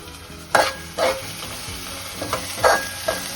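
Onions fry in a pan with a soft background sizzle, punctuated by about five distinct spatula scrapes and stirs at uneven intervals, close by and with no voices.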